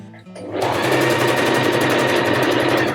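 A sewing machine runs steadily and loudly up close, top-stitching a patch over a hole in distressed denim jeans as one continuous whir after a brief start.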